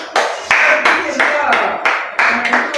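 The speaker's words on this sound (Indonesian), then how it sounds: "Beri aplaus sekali lagi." Students in a classroom break into applause: bursts of hand clapping arriving in rhythmic waves, loud and close, with voices mixed in among the claps.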